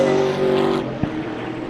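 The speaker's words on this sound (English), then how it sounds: "great to see Peter Callow out there with the Camaro muscle car as well" Camaro muscle car racing at CARCO.com.au Raceway, a loud engine note holding steady then dropping in pitch as it passes and fades, with a brief thump partway through.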